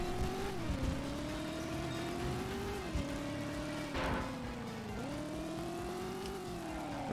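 A car engine drones in the Driver video game, a steady hum that rises and dips in pitch as the car speeds up and eases off, continuous and fairly quiet with no talk.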